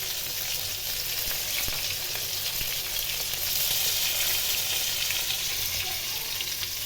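Fish fries until crisp in a pan, a steady close sizzle and crackle lasting throughout, with occasional faint clicks of a utensil.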